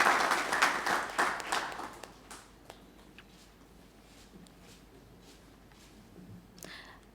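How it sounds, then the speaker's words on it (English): A conference audience at an environment session gives a round of applause for the chair, loud and dense for about two seconds, then quickly thinning into a quiet room with a few scattered late claps. "Please give a big round of applause to the chair."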